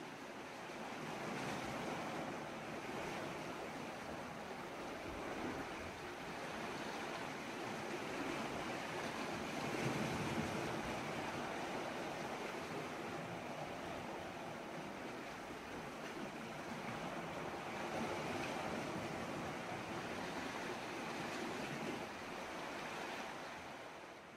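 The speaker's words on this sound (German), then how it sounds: "Der Wind pfeift ganz schön" Strong wind by the sea on Chumbe Island, a steady rushing gust mixed with surf and wind buffeting the microphone, continuous and fairly loud with slight swells, no talking.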